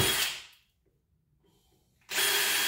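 A power drill boring holes for a motorcycle trackside license plate mount gives a short loud burst, falls silent briefly, then starts up again just as loudly.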